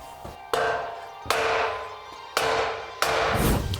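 Four sharp metallic hammer strikes ring out at uneven intervals, each leaving a bright ringing decay, while someone hammers a stuck axle out of the hub on an Infiniti G37.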